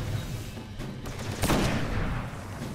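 Gunfire in the video game Destiny during a solo Nightfall strike, with a dense, noisy wash of shots and one sharper burst in the middle, continuous and without talk.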